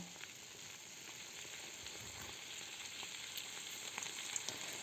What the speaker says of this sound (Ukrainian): Заливаємо ось цією підливкою.